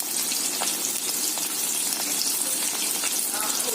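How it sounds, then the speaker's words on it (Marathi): Okra (bhendi) frying in hot oil, a loud dense continuous sizzle with small crackles and occasional stirring scrapes close by. "तोपर्यंत आपण भेंडी तळूया."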